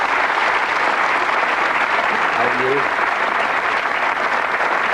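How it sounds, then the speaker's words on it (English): Steady applause from a TV game show studio audience at a darts quiz fills the whole stretch, with a brief spoken question from a nearby voice partway through. "Give him a round of applause."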